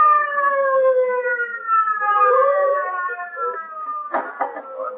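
A police siren wails, rising and falling steadily, loud and sustained, on a car driven to a scene, with a burst of clattering noise near the end.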